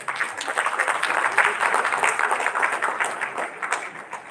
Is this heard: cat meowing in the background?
no